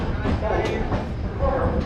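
Train pulling into the platform at Tundla Junction, a steady low rumble with faint clattering close by, running continuously under the sound of people talking nearby.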